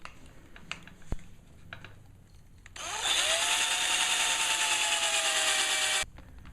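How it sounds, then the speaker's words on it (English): A power drill bores pilot holes in wood for a shop extension cord organizer caddy, a loud, steady high-pitched whine that starts abruptly, holds for about three seconds and cuts off, after quieter handling noises. "Now I am going to drill a couple of pilot holes."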